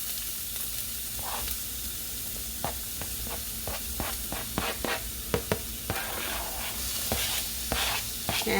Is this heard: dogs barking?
no